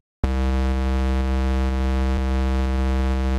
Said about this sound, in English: So when this triggers the default instance of Massive, it sounds like this.